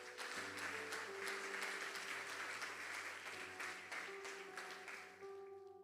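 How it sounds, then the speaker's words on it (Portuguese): Congregation applause in a church, a steady wash of clapping lasting several seconds over sustained organ or keyboard tones, fading slightly toward the end. "aplauda o Senhor"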